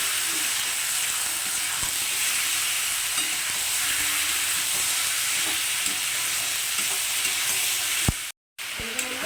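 Pieces of chicken fry in a hot pan, a continuous hissing sizzle broken by occasional scraping stirs and spoon knocks, cutting briefly to silence near the end.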